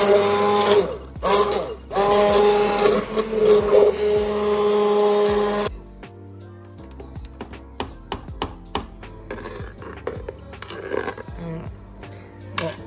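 A hand blender purées soup directly in the Cookeo cooking bowl, its motor whirring loudly and steadily for several seconds before stopping, followed by scattered knocks and taps against the bowl.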